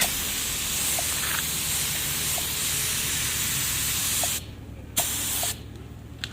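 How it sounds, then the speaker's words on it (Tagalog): Bright red spray paint hisses from a can onto a Honda Click crankcase in a long continuous burst, then two shorter sprays after brief pauses, close and loud with no talking. "konting spray lang at natakpan na agad yung base coat natin"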